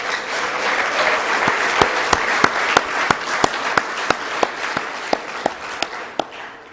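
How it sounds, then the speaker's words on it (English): Sustained applause from a banquet audience at a football team banquet, a dense wash of many hands clapping with a few sharp, loud individual claps standing out near the microphone, going on for several seconds. "We'll give you a round of applause."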